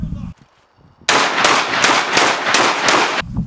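A rapid series of loud, sharp gunshots during a practical shooting exercise, about six in close succession, each a hard crack with a ringing tail, after a brief quiet moment.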